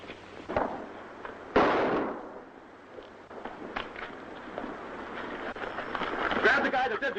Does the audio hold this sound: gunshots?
yes